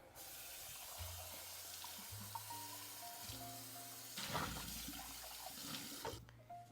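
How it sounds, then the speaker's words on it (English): Running tap water pours steadily as a measuring cup is rinsed in a sink, a continuous splashing stream with shifting low tones as the cup fills and empties, fairly quiet and with no talk. "Then the next thing you want to do is rinse out your measuring cup."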